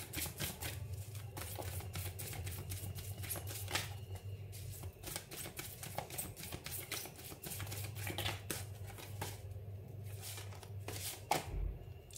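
Oracle cards are shuffled by hand in repeated rapid riffling bursts, close and crisp, a steady stream of papery flicks with short pauses and no talk.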